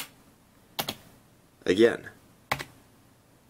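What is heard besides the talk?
Corsair K55 RGB gaming keyboard key presses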